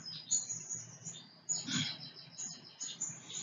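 An Oriental magpie-robin practices its song in an aviary cage, giving faint, thin, high chirps and short twittering phrases over a low background hum.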